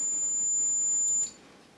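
A digital tone generator drives a piezo buzzer with a steady, piercing high tone near 7 kHz. It sounds continuously for just over a second, then cuts off abruptly, leaving only faint background hiss.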